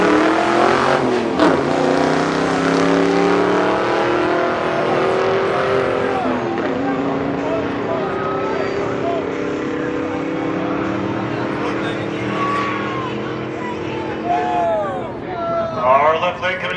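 A Mustang's engine roars hard as it accelerates down a quarter-mile drag strip, pitch climbing through gear changes, loud and close, with voices faintly underneath.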